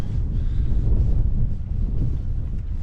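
Steady wind buffets the microphone on cold, open Alnwick Moor in Northumberland, a continuous low rumbling roar that swells slightly and stays constant throughout, with no voices.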